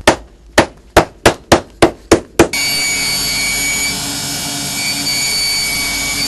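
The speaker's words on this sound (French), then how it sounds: "On va donc l'égaliser, le clouer, l'égaliser, de façon à ce que la couche d'usure soit parfaitement stable" A hammer drives nails into a layered shoe heel at a cobbler's bench: eight sharp, evenly spaced taps in quick succession, then a steady rushing machine-like noise takes over.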